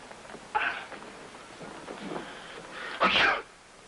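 A soft, quiet sneeze near the end, preceded by faint breathy vocal noises.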